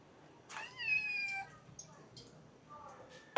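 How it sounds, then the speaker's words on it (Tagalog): A cat lets out a loud, drawn-out meow, followed by a few shorter, fainter cries, fairly close, begging for fish. "Ang ingay ng pusa, gusto niyang kainin yung isda."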